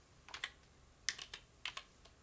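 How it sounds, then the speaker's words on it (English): Fingers tap out a password on a computer keyboard in short bursts of crisp, close keystrokes separated by brief pauses. "you can type the root password"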